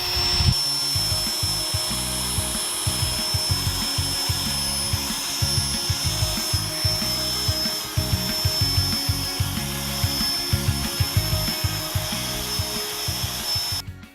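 A car headlight lens is hand-sanded with 500 grit sandpaper in a steady, close scraping rhythm of rapid back-and-forth strokes, continuous and fairly loud, with no talking.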